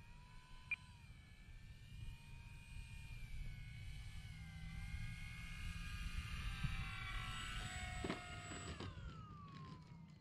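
FMS PA-18 Super Cub RC airplane making a low, fast pass: a steady electric motor whine with a rising and falling pitch that swells toward the middle, then a sharp sweep down as it passes close, over faint wind noise.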